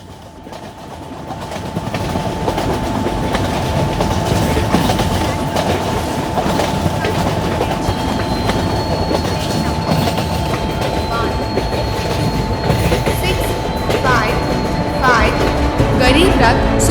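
Game audio from a train simulator: a Garib Rath Superfast Express rumbles along steadily in a loud, continuous run, with clickety-clack wheel rhythm and occasional squeals and tonal hums, building up over the first two seconds.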